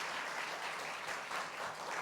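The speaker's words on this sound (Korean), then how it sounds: "여러분 먼저 박수 한번 하겠습니다." Steady audience applause at a seminary gathering for a visiting church leader, a dense, continuous patter of many hands clapping at moderate distance with no voices over it.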